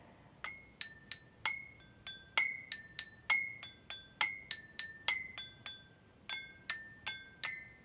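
Marimba struck with mallets alternates between two notes in a lively, uneven rhythm of bright, quickly decaying tones, close and clear with no talk.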